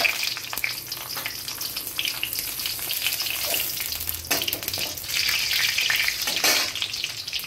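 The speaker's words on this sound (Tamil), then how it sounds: "கடுகு நல்லா வெடிச்சிட்டு ஒரு 1/2 ஸ்பூன் உளுந்து சேர்த்துக்கலாம்." Mustard seeds spluttering in hot oil while making a ridge gourd peel chutney, a continuous crackling sizzle with dense popping, steady and close, with no talking over it.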